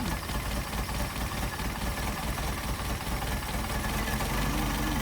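An engine fitted with Solex carburetors idles low and steadily, a close, continuous rumble with a slight uneven pulse and nobody talking over it.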